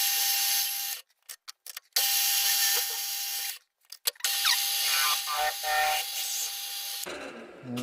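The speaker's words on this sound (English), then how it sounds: "So we'll get this drilled." A drill bores into a centre-popped boss for a live steam model, a steady whining tone that runs in long bursts broken by short pauses and brief stop-start blips, close and fairly loud, with no talk.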